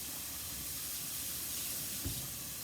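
Red pepper tipped into a hot stir fry of vegetables sizzles with a steady broad hiss, with a brief louder crackle near the end, close and alone with no talk.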